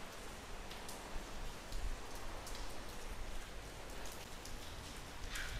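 Rain falling steadily outside a hotel in Patong, Phuket, a dense even hiss of drops on surfaces with occasional nearer splashes, no voices.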